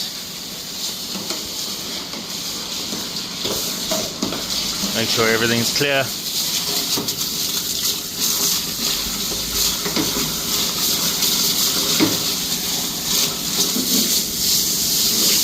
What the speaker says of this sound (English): Pop the hose down here, just flush everything out.